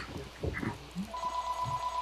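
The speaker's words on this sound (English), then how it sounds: "Shut up, phone. I'm well aware that you're ringing, but I am not going to answer you." A telephone rings with a steady electronic ringtone that starts about halfway through and holds on, following brief low murmurs and rustling in a home gaming session.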